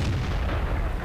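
A deep, booming tank cannon report from a T-54 in a tank battle video game, a single heavy low rumble filling the brief moment.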